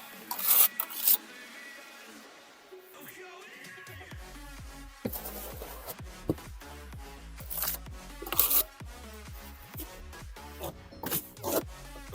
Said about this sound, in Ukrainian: починаємо наносити клей приблизно 2-3 мм слой